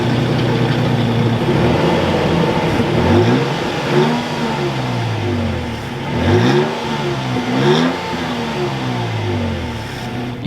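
A 2023 Toyota Tacoma with a six-speed manual starts and idles, then gets several sharp revs that rise and fall in quick succession, the exhaust close and loud throughout with no talking.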